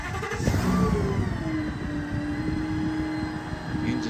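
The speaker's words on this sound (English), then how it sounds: "The engine's very quiet." A 2015 Ford F-550 IMT service truck with a gas V10 engine running, a low steady rumble with a sustained whining tone rising over it, moderately loud and close.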